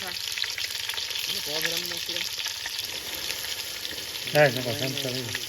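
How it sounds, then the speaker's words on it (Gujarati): Onions and mustard seeds sizzle and crackle loudly in hot oil for a tempering, steady frying throughout, with a few brief spoken words on top. "આપણે આમાં ડુંગળી નાખી રહ્યા છે વઘાર માટે"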